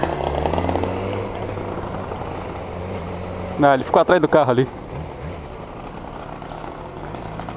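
A two-stroke engine on a motorized bicycle buzzes steadily close by, with a brief sharper burst of revving in the middle, while someone talks over it outdoors.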